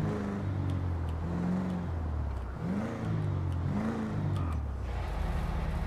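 A car engine in GTA 5 Online revs up and down in several surges while being parked, loud and close, with a steady engine drone running throughout.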